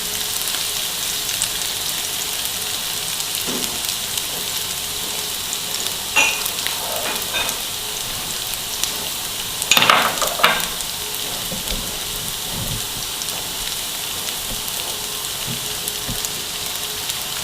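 Onions frying in oil in a pan with leftover boiled rice nearby, a steady moderate sizzle with a few louder bursts of crackle and spoon scrapes midway.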